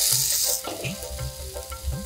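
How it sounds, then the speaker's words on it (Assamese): Potatoes hitting fried cumin in hot oil for Assamese chutney aloo, a loud steady sizzle with a brief bright burst at the start and low stirring scrapes throughout. "অলপ সময়ৰ পাছত জিৰাখিনি ভজা হৈ গৈছে, এতিয়া আলুকেইডোখৰ দিম"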